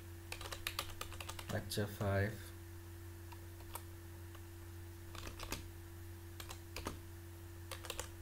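Keys on a computer keyboard tapped in scattered bursts while a session name is entered for a virtual class, quiet and close, with a person speaking briefly partway through.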